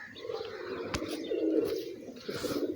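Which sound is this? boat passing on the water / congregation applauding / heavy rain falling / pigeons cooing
pigeons cooing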